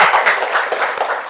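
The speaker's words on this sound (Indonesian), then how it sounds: "ini tepuk tangan ya buat Yudaska ya." Brief burst of applause from a classroom audience during a teaching session: dense, steady clapping for just over a second, close and fairly loud.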